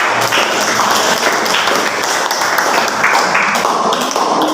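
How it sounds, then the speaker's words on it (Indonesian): A classroom of students applauds after a group presentation, a dense steady patter of clapping that fills the room without letup, with faint voices mixed in. "Ya, berikan tepuk tangan."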